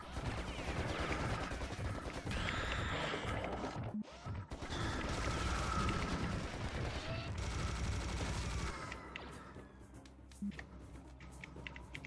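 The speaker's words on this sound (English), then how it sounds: "Is he shooting me through the wall, or is there another one somewhere I'm not seeing?" Bursts of video game gunfire fill a busy, loud mix, with rapid shots and crashes over dense game sound, a sharp break near the four-second mark, then quieter scattered hits toward the end.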